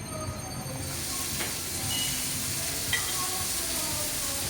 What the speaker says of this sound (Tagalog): So, ang bawang brown na.